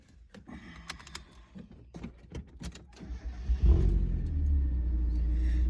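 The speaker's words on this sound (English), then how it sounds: "we really haven't driven this yet since we put the new muffler on, so I really want to hear it" A Mazda Miata with a newly fitted muffler, its exhaust swelling from light ticks and clicks into a loud, steady low drone as the car pulls away and keeps driving, no talk.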